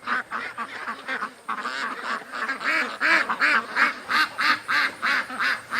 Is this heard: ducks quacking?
yes